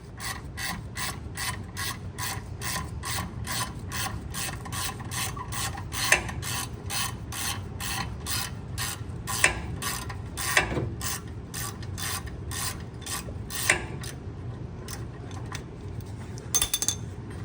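A ratchet wrench clicks in a fast, even rhythm while brake caliper bolts are backed out on an old project truck, close and steady, with a few sharper knocks between the bursts.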